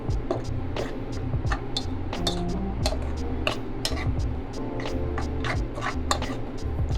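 A spoon fluffing cooked rice in a pot: a quick run of light taps, clicks and scrapes against the pot, close up with faint background hum and no speech.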